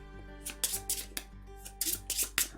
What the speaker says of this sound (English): give this one a good shuffle